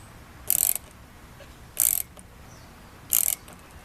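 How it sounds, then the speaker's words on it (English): Ratchet with a 15mm socket driving a fitting into PVC for a chicken and rabbit watering setup: three short, crisp clicking bursts spaced about a second apart, close and clear over faint background hiss. "I'm just using a 15mm socket and tightening it down"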